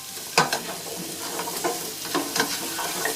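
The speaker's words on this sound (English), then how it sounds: "Give it a good stir" Sweet potato and chayote are stirred in a frying pan, with a few scraping, clattering strokes of the spoon over a soft, close sizzle.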